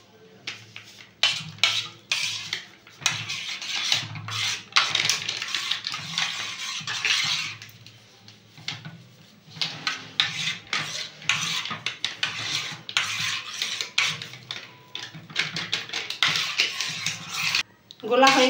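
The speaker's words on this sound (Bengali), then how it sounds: "দুধটা আমি গুলে নেব এর মধ্যে।" A metal spoon clinks and scrapes against a pot or bowl while stirring milk powder into hot water for gulab jamun, in irregular bursts of rattling strokes with brief pauses between them, close and moderately loud.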